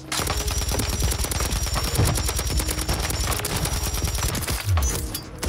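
Rapid bursts of gunfire from Call of Duty Warzone Mobile, dense automatic shots stacked over continuous game noise, loud and close throughout with no talk.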